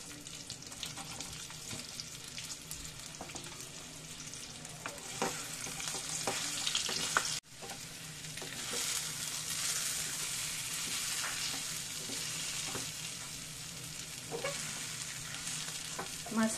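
Stuffed brinjals fry in a pan with black masala, a steady sizzle of oil heard close, with scraping stirring strokes throughout and a short break near the middle.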